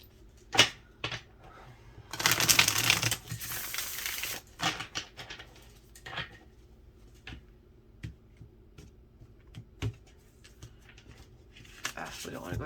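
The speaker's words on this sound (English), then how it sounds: "One more shuffle here." Playing cards being shuffled at a reading table, a dense riffling burst in the middle with scattered taps and clicks around it, close by and fairly quiet.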